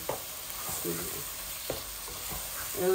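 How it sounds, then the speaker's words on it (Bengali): Small cut Bangladeshi shrimp and spices sizzle and fry in a pan, with broadband crackle and intermittent scraping stirs recurring through a steady close-up hiss. "আমার ইয়েটা চিংড়ি আর মশলাগুলা বালা করে বাজা বাজা ওই যাবি"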